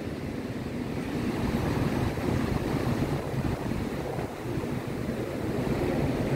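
Ocean surf washing in at Patong Beach, Phuket, a continuous broadband roar of breaking waves with wind rumble on the microphone, fairly close and steady.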